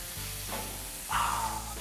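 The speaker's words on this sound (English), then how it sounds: "Hear that sizzle? Grill music." A tomahawk ribeye steak hisses and sizzles on a hot grill, a steady close crackle that swells louder as it is pressed down.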